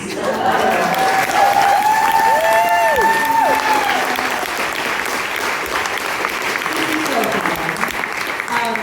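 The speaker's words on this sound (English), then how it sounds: "a round of applause for Tegan for the clicker and the computer" An audience at a book event in Washington Hall, Seattle, applauds steadily, dense clapping filling the room, with a few voices and whistles rising over it before the clapping settles.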